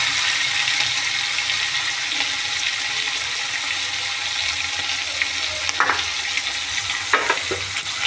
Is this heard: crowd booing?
no